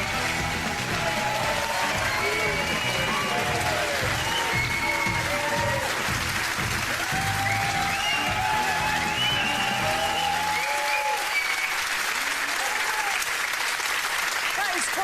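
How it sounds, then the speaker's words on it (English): A studio audience on a talk show applauds and cheers loudly for footballer Steven Gerrard's entrance, dense sustained clapping with whoops and shouts that carries on before abruptly thinning out near the end. "That's some Chelsea fans too cheering you."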